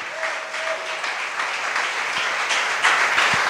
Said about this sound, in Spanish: Espero que el aplauso signifique que usted está entendiendo